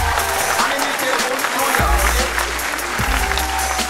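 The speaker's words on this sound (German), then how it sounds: "Deswegen herzlichen Applaus und ganz große Gratulation an Felix und Johanna." Audience applauding young bakers at a baking awards ceremony, steady sustained clapping throughout with a low rumble and some voices underneath.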